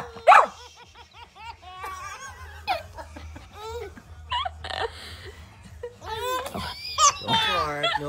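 A dog barks and yelps several times in short bursts, close by, mixed with a child's hiccup-like laughs and excited voices talking over the scene.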